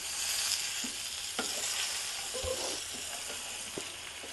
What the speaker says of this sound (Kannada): ಎಲ್ಲ ಬಾಳೆಕಾಯಿಗೂ ಖಾರದ ಮಸಾಲೆ ಎಲ್ಲ ಅಂಟ್ಕೊಳ್ಳೋ ಹಾಗೆ ಮಿಕ್ಸ್ ಮಾಡಿ